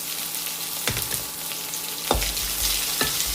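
Chopped garlic and ginger fry in hot oil with dried chillies and curry leaves, a continuous crackling sizzle broken by three sharp spatula knocks against the pan.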